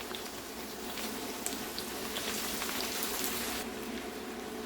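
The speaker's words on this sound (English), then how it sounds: "Now I add in onions to add more flavor." Onions go into hot oil that was flavored by frying sausages, making a steady, dense sizzle that hisses evenly and close by throughout, with no talking.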